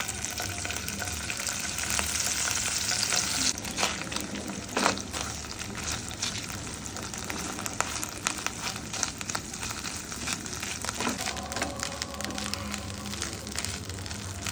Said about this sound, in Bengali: শুটকিগুলো আমি ভেজে নিব।